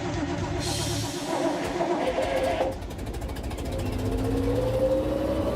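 A Ferret armoured car engine runs steadily nearby, a continuous low rumble with a rising rev partway through, heard alone without talk.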